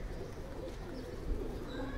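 Breeder pigeons of a Ferozpuri and Faqeer Gull mix coo in a low, steady murmur, close and continuous, mixed with a dull background rumble.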